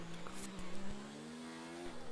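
F1 race car in a video game at Singapore, its engine droning steadily and rising in pitch with a brief tyre squeal, fairly faint and alone.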